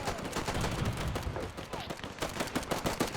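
Rapid machine gun fire rattles continuously from a WW1 battlefield in the game Between Empires, dense overlapping bursts of shots with distant rifle and artillery reports behind.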